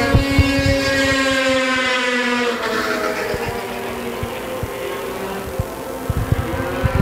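Several 1989 Polaris racing snowmobiles in a Sport Formula 500 race scream down the back chute. The loud, high-pitched engine whine sweeps downward as they rush past up close, with mechanical clatter beneath.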